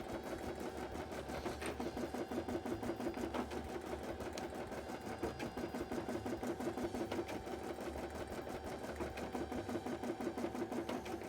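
An embroidery machine stitches a cosplay embroidery piece, its rapid needle chatter steady and close, running evenly throughout with no talk.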